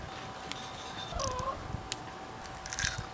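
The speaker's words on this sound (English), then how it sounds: "we'll just come out here and pick them and snack on them" Fresh sugar snap peas, picked in a garden and eaten raw, give a few close crisp bites and crunchy chewing over a low outdoor hum, with faint animal whimpers nearby.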